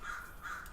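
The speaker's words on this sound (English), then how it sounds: "you can probably hear that crow outside" A crow caws outside an open window, two drawn-out calls with a brief gap, carrying in from a short distance over steady room tone.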